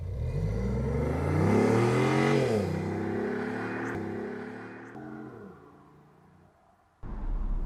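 A BMW i8 Roadster pulls away, its engine rising in pitch as it accelerates, then easing off and fading into the distance before a brief rumble returns at the end.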